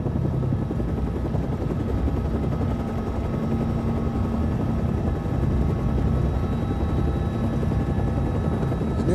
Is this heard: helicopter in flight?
yes